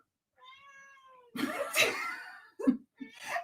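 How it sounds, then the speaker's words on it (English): A domestic cat gives a soft, drawn-out meow close by, followed by a few rougher, throaty cries and short bursts in a quiet room. "That's my cat meowing."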